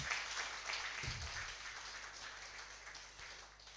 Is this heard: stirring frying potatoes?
no